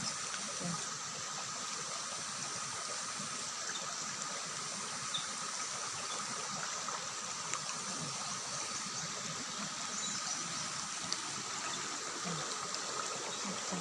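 Steady broadband rush of flowing river water, continuous and even throughout, with no other clear sounds.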